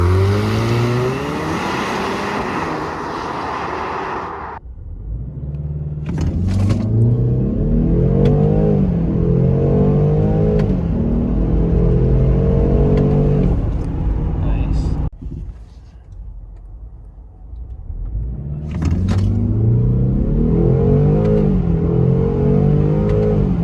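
Land Rover Defender 90 on a road 0-60 run, its engine revving up through repeated rising gear pulls heard from inside the cabin, with brief drops between shifts and a lull in the middle, loud and close.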